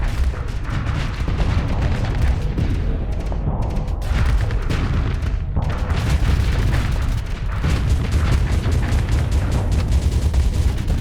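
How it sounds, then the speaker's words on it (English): A plasma cannon fires in the space combat game Starsector, producing a loud, continuous run of heavy booming blasts that overlap like artillery for the whole stretch, with only brief dips between volleys. "It's at least staying in range for the plasma cannon."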